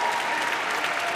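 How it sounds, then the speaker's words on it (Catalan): Graduation ceremony crowd in an academic hall giving steady, dense applause that carries on throughout and eases slightly in intensity, with no voices over it. "Els aplaudiments, que van baixant d'intensitat."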